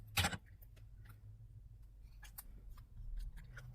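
Scissors snip through a strip of tape in one quick, close cut near the start, followed by faint handling ticks and rustles in a quiet room.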